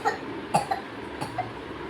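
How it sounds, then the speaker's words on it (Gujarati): A person coughs at home in a family setting, with about four short, sharp bursts spread across two seconds, close and fairly loud against quiet room background. "ઉધરસ જો થઈ."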